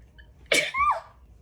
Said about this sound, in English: This sneeze.